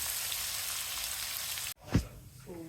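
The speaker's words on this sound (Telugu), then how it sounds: "పనస గింజల ముక్కల్ని వేసేద్దాం. హై మీద పెట్టండి, దగ్గర ఉండండి, తిప్పండి అమ్మ." Jackfruit seed pieces fry on high heat with a dense, steady crackling sizzle, then a sharp cut and a single stirring scrape as the pieces are turned, followed by a softer sizzle.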